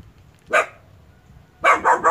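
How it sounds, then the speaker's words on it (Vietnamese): A dog barks close by outdoors on a fishing trip, with one sharp bark followed after a pause by a quick run of three loud barks. "Chó khôn mà chó dữ dường á."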